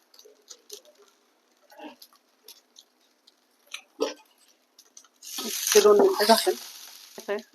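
Poha and rava dosa batter cooks on a pan with oil, at first with sparse small ticks and crackles, then a sudden loud burst of dense sizzling that carries on to the end.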